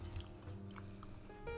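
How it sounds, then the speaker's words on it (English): A bite into a crunchy mochi donut makes a short, close crackle followed by soft chewing, brief and fairly quiet in the foreground. "That crunch, though."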